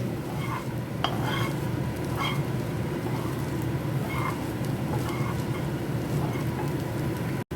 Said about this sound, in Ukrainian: Перемішую.